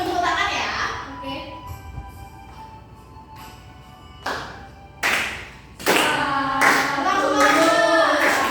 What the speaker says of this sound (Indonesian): Tetap sambil tepuk tangan ya